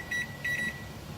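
A digital kitchen timer is being set while making salsa, giving two short bursts of high electronic beeps close by, then the low hum of the kitchen.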